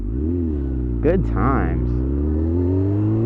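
A Honda CBR F4i motorcycle drones steadily at a low, even pitch while being ridden, loud and close, with a voice speaking briefly over it.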